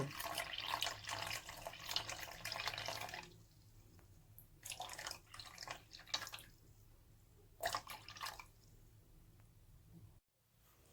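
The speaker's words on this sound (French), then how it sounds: "Et maintenant, j'ajoute de l'eau jusqu'à obtenir 325 ml. C'est de l'eau tiède." Lukewarm water is poured into flour for homemade hamburger buns, a soft splashing trickle in several separate pours with short pauses, faint and close.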